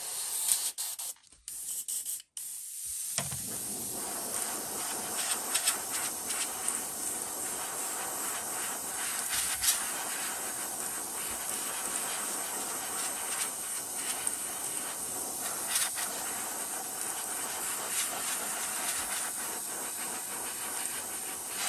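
An airbrush sprays candy paint onto a fishing lure, a steady close hiss running nearly unbroken for about twenty seconds after a few brief stuttering bursts at the start.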